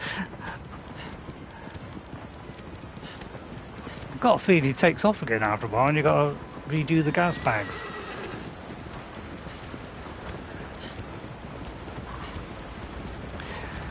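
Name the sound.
horse hooves clopping in a video game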